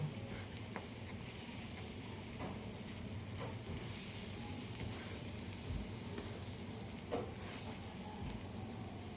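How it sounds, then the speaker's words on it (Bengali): Pea-stuffed parathas frying in a pan give a continuous soft sizzle with occasional light pressing taps, steady and fairly quiet throughout, no talking. "দেখো চেপে চেপে সব পরোটাগুলোকে আমি ভেজে নেব।"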